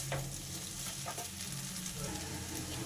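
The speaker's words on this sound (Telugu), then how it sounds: "ఇప్పుడు కారం వేసిన తర్వాత మంచిగా మనం మిక్స్ చేసుకుందాం" Egg noodles stirred with chili powder in a hot pan, a steady close sizzle of frying with soft scraping stir strokes running underneath for a few seconds, no voices.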